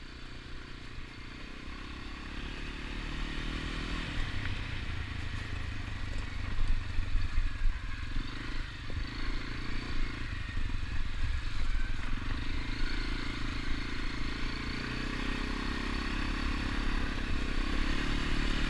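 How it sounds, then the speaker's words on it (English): Dirt bike and four-wheeler ATV engines riding around a campground park, a continuous rumbling drone with rising revs, clatter and scraping, moderately near. "They had another dirt bike and another four-wheeler that came in."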